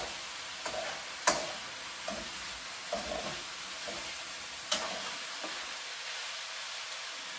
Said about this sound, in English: I'm going to like mix or stir the dish.